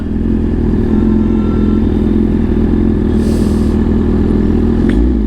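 A BMW S1000RR motorcycle engine runs steadily with a close, loud low-frequency drone, its revs slowly falling, with no voices.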